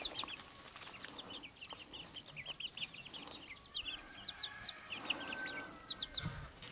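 Chicks in a garden run with a mobile fence cluck and peep repeatedly in short, soft bursts, fairly faint and steady throughout, against quiet outdoor background noise.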